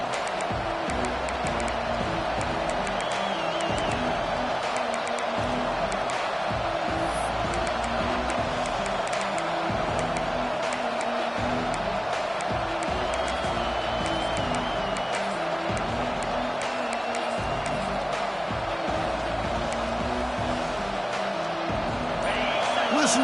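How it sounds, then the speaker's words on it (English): A big crowd at a college football game against Oregon keeps up a dense, continuous roar through the stadium. The noise stays loud and sustained with no letup, and voices in the crowd rise and fall underneath it. "Listen to the crowd energy here in the early going"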